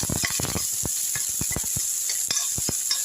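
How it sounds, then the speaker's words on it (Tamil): Chopped onion and crushed garlic dropped into hot oil in a pan, sizzling with a constant bright hiss broken by sharp crackles and spatters, close and fairly loud. "இந்த வெங்காயமும் பூண்டு தட்டி எடுத்து பூண்டையும் போட்டுருங்க."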